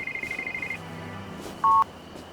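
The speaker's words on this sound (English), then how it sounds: "Police Chief Swaraj was startled awake by a phone call" A telephone rings at night as a sound effect in a documentary on the 1984 Bhopal Union Carbide disaster: a steady electronic tone followed by a short, louder second beep.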